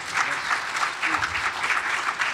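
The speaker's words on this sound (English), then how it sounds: "can you guys clap?" Audience at a mayors' meeting breaks into steady, lively applause, a room full of hands clapping together at close range, unbroken for a couple of seconds.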